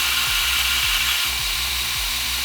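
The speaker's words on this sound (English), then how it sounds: "I want to see how easily I can sand this." A power tool sands a piece of lapis lazuli, a steady high whine with rhythmic grinding pulses repeating roughly every half second, loud and close with no talk.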